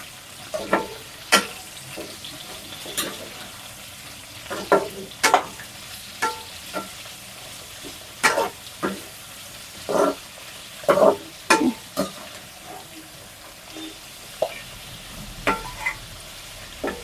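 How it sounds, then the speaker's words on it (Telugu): Bitter gourd pieces lightly frying in hot oil as a curry base, a steady low sizzle broken by repeated sharp scraping strokes of a spoon stirring the pan, close and moderately loud, with no talking. "ఇక్కడ కూడా కాకరకాయలు కూడా లైట్గా ఫ్రై చేసుకుంటాను అన్నమాట"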